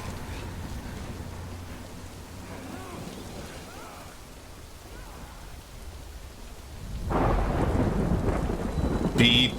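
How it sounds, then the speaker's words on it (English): Rain and rumbling thunder in the video game Death Stranding, with a steady soft downpour that swells into a heavier, louder burst of storm near the end. "No, it's raining."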